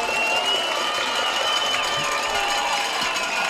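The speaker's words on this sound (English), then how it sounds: "Baylor fans making some noise. You might can hear them right below us." Crowd noise from fans at a high school football game, a steady wash of cheering and chatter from stands nearby, continuous and fairly loud throughout with no single voice standing out.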